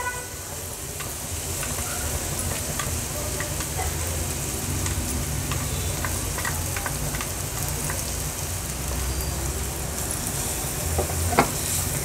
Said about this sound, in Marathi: व्यवस्थित तेलावर हे मसाले परतून घ्यायचे आहेत आपल्याला। परतून झाले की आपण हे जे क्रश तयार केलं ते ॲड करूया।